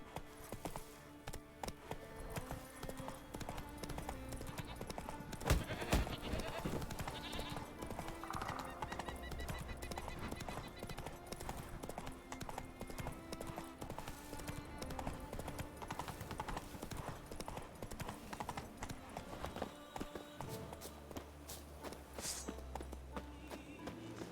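Hooves of a horse clip-clopping at a run in the video game The Witcher 3: The Wild Hunt, a steady rapid rhythm under game music, with occasional whinnies and a voice speaking briefly.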